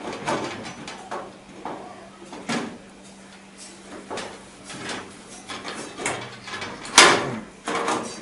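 An almirah lock mechanism being worked by hand, giving a series of separate metallic clicks, clacks and scrapes, fairly close and moderate in level, with a sharper rattle near the end.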